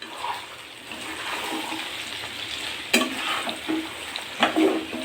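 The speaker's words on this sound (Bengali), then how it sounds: "আমার রান্নার শেষ পর্যায়ে এখন বিফ সিজলিং" Beef sizzles in a pan at the end of a Chinese-style stir-fry, a steady close frying hiss with a few sharp bursts and scrapes as the meat is stirred.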